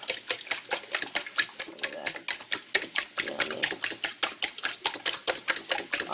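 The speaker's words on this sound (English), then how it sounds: "So then you just scramble your egg up." A fork briskly beats eggs in a bowl in a home kitchen, making a quick, steady clicking rhythm of about five strokes per second that runs throughout.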